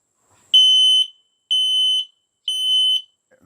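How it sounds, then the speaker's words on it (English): An X-Sense FS51 mini smoke detector sounds its alarm: three loud, piercing, high-pitched beeps of about half a second each, evenly spaced, close to the microphone and heard alone. "The alarm sound on these mini smoke detectors blasts out at about 100 decibels."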